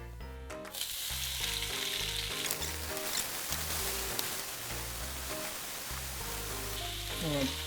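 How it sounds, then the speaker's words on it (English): Garlic sizzles and fries steadily in a pan, a dense crackling hiss with occasional stirring, fairly close and without talk. "We're gonna take our garlic, get it nice and brown."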